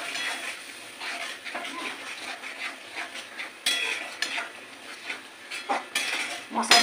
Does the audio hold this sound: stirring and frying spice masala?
yes